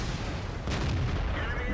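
The 90mm tank gun on an M6 heavy tank fires once in a World of Tanks battle, a single loud boom partway through over steady rumbling game noise.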